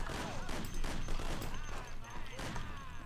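A grenade bursts amid gunfire in the 1930s gangster game Mafia: The City of Lost Heaven, loud dense cracking and rumbling blasts that come in quick overlapping volleys.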